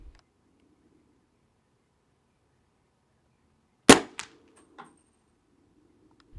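A single suppressed 300 Blackout shot from a Ruger American or AR15 with a Sig Sauer suppressor and subsonic Sig Sauer ammunition, one sharp crack followed by two fainter clanging echoes in quiet surroundings.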